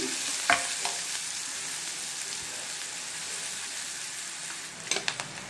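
Turmeric and salt frying in a pan with broccoli, giving a steady bright sizzle throughout, with a spatula scrape near the start and a few quick clinks at the end.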